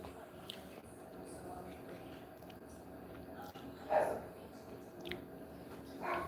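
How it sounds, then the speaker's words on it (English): A dog barks indoors at cats outside, a few short, faint barks rising over a quiet room hum, the loudest near the middle and more toward the end. "What are you barking at now?"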